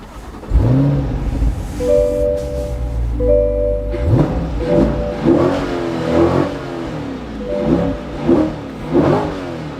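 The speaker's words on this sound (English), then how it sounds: "so here's engine startup, and I'm going to do a quick rev so you guys can hear what it sounds like" A Chevrolet C8 Corvette heard from inside the cabin fires up with a loud starter catch and settles into a deep idle, then gets several short throttle blips that rise and fall in a rhythmic series of revs.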